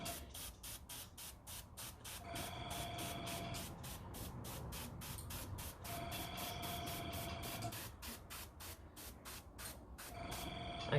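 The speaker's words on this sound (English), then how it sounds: "I'm going to use my little compressor here, and it's just to spread it out a bit" A small air compressor hisses in repeated rhythmic bursts, blowing gel stain across a heart-shaped canvas, close and steady with a faint tone underneath.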